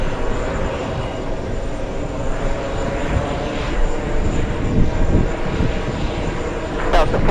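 An American Airlines heavy jet departs JFK airport, its engines a loud, continuous roar heard from nearby, with radio voices talking over it.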